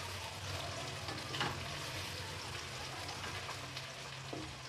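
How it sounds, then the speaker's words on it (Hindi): Sliced onions fry in a pan with ginger garlic paste added for chana pulao, a soft continuous sizzle with occasional stirring scrapes, quiet and without speech. "इसको थोड़ा सा गोल्डन होने तक फ्राई करते हैं"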